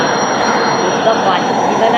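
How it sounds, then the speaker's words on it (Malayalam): A loud, continuous rumble of a train passing in the video game Indian Bikes Driving 3D, with a faint metallic squeal riding over the steady roar. "ട്രെയിൻ വരുന്നു ഗായ്സ്."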